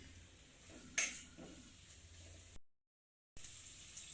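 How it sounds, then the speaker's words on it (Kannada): Chopped onions frying in hot oil in a kadai, a steady soft sizzle with a clink of a utensil against the pan, briefly cut to silence before the frying resumes. "ಎಣ್ಣೆ ಬಿಸಿ ಆದ ನಂತರ ಕಟ್ ಮಾಡಿಟ್ಟಿರುವ ಉಳ್ಳಾಗಡ್ಡೆ ಹಾಕಬೇಕು. ಇದನ್ನು ಹುರಿದ್ಕೊಳ್ಬೇಕು."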